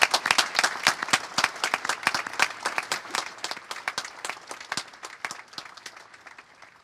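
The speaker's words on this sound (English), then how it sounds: "please join me in a round of applause to recognize these fine service members" An audience at a military change of command ceremony gives a round of applause, many hands clapping in a dense, lively patter that gradually thins and fades away.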